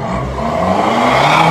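A car engine revs and accelerates close by, a steady rising roar with climbing harmonic tones over about a second and a half, with no talk over it.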